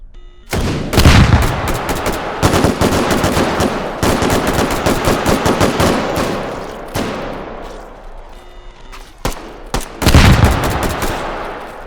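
Rapid bursts of gunfire from the VR shooter H3VR, loud, close and sustained, with dense automatic volleys broken by short pauses and a final heavy burst.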